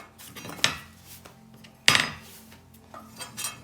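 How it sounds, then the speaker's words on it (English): A knife chops garlic on a cutting board: two sharp, distinct knocks stand out, with a few softer taps and clinks between them in a quiet room. "chop it up as fine as you can"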